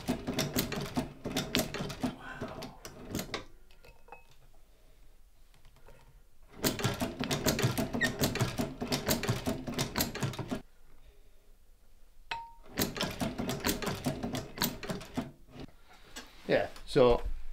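A hand-cranked sewing machine stitches shoe uppers in three loud, busy bursts of rapid mechanical clatter, separated by quiet pauses.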